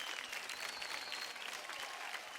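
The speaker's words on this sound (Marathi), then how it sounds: "जोरदार टाळ्या होऊन जाऊन दे" Dense, sustained applause fills a stage hall as a television dance show audience claps for the performers, a steady even roar of many hands at moderate loudness.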